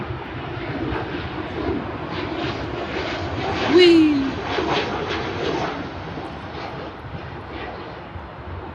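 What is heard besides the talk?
Boeing 737 airplane flying past at Paine Field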